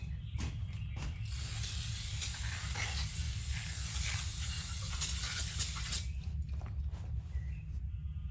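A spray can hisses in a steady, close burst for several seconds while a 2003 Toyota Tundra 4.7L V8 valve cover gasket is replaced, ending with a few faint clicks.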